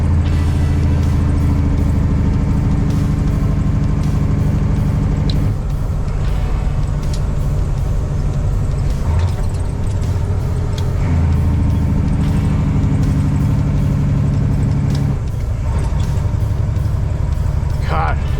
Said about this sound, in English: It's very tedious driving this truck, man.